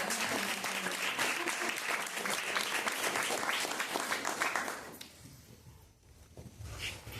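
Warm audience applause at a book presentation in a bookstore, dense sustained clapping for about five seconds that then thins out and fades.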